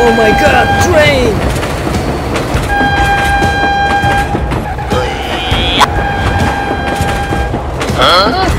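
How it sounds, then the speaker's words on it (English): A train rumbles past close by with clattering wagons and several long horn blasts, while people shout excitedly over the noise. "Oh my god, train!"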